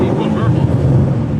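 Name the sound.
exhaust burble from tuned BMW E39 M5 V8 in sport mode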